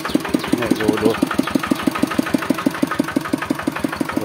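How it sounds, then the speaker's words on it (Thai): A modified vehicle's RT95 engine running near and loud, a steady rapid thumping beat of firing strokes with a brief throttle blip early on, while someone talks over it. "นี่เครื่อง RT95 นะครับเนี่ยโอ้เครื่องนิ่มเลยครับ"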